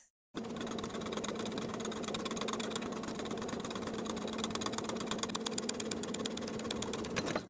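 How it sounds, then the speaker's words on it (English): A sewing machine edge-stitches the hem of a pair of shorts, running in one unbroken, steady burst of rapid mechanical whirring and needle clatter for about seven seconds before stopping abruptly. "Then we'll edge stitch our hem in place all the way around the inner folded edge"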